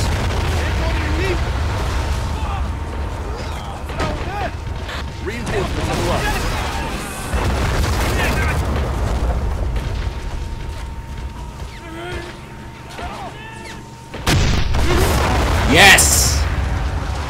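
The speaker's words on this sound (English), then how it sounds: "See if I can get him to pound those guns." Howitzer and artillery fire in Men of War: Assault Squad 2 thuds in the distance with repeated low booms and rumbles, joined by mechanical creaks, under someone talking, with a sharper burst near the end.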